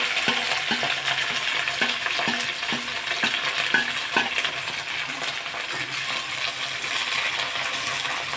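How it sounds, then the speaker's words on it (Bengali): Chopped onions frying in a pan for chicken curry give a continuous hiss and sizzle, with soft regular taps of a spatula early on. "পেঁয়াজটা ভালো করে কষিয়ে নেব"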